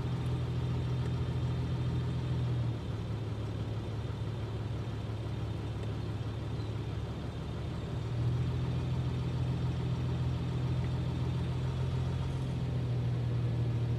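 A Citroën C6 engine from a scrapyard idles steadily, still somewhat cold, with a strange clattering noise; a close, even low hum and rumble runs alone throughout, dipping slightly midway.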